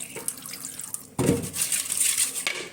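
A small splash of water poured over fish rubbed with salt, turmeric and chilli powder, a short trickle that starts abruptly and runs steadily to the end, close and fairly loud.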